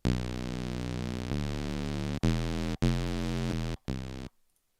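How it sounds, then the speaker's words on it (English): Buzzy, hollow synthesizer tones from oscillators all set to square waves, held steady, changing pitch in a few blocks before cutting off abruptly into silence. "all to be square waves, it's going to sound like this."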